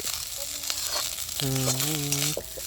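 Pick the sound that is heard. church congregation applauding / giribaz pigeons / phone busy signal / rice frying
rice frying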